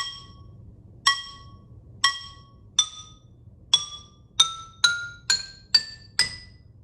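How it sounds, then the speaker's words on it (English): A wooden xylophone bar struck right on its node, giving ten short, clinky mallet tones that die away quickly. The strikes come faster toward the end over a low background hum. "if you hit directly on the node,"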